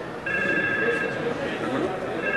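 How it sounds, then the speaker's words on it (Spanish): A desk telephone rings steadily in an office, its repeating electronic tones heard under continuous speech while someone demonstrates an Asterisk phone system with Arduino. "si alguien me vuelve a llamar, ¿qué es lo que pasa? Vuelve a sonar mi teléfono."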